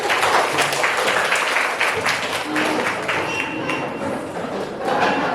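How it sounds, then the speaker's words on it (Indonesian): A classroom of ninth-grade students claps together, dense continuous hand clapping that swells and dips slightly, close and loud, with a little voice underneath. "Ya, luar biasa. Tepuk tangan."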